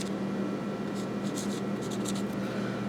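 A pen scratching across paper in short strokes, faint close scribbles over a steady hum from a hydroxy generator running a car engine at idle nearby.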